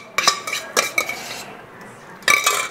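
Bacalhau com natas mixture of salt cod, potato and bechamel being spooned into a baking dish, with sharp clinks and scrapes of utensils against the dish in short irregular bursts, close and fairly loud.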